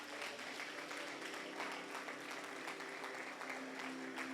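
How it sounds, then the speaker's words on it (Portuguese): A church congregation claps together for the Lord during a worship service. The applause is dense and steady and fills the space from start to finish, with no pauses. "Aplauda bem forte o Senhor nessa noite."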